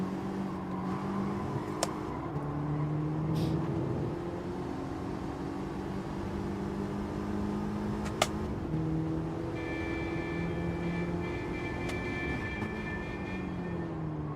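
A Gran Turismo 7 race car accelerating during a daily race, its engine note a steady mid-range drone with shifting gear-step tones, a couple of sharp clicks, and a higher whine joining later, no talk over it.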